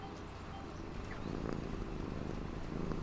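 A cat purring softly and continuously at close range, a low rhythmic rumble that grows slightly fuller toward the end.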